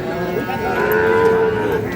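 A calf at a busy cattle market in Ambari lets out one long, loud, nearby moo that swells and then fades over the ambient crowd noise.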